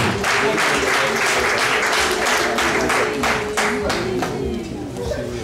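A crowd claps steadily throughout, loud and dense, with voices mixed in; no distinct ululation stands out clearly.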